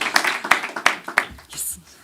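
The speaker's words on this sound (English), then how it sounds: "please, big round of applause" A handful of sharp, separate hand claps from a conference showcase audience, spaced roughly a third of a second apart and close by, with voices carrying underneath.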